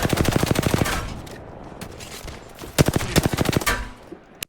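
Rapid automatic gunfire in a shooter video game, two loud bursts of fast repeated shots separated by a quieter stretch, close and dominant with no talk.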